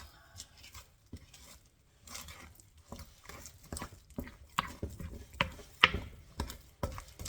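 Durum rye bread dough stirred in a bowl before the rest of the flour goes in, with irregular sticky slaps and utensil scrapes against the bowl, close and moderately loud, no speech.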